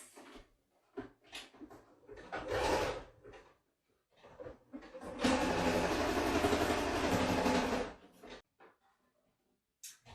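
A sewing machine stitches fabric in bursts, a short run followed by a longer steady whirring stretch, with quiet pauses and small clicks between runs.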